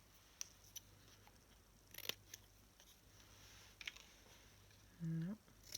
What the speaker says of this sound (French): Les ciseaux sont là.